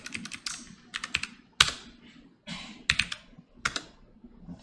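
A computer keyboard with Ctrl+C pressed over and over to force-stop a database command. Clusters of sharp, close key clicks come in irregular bursts, with one louder strike, and nobody speaks.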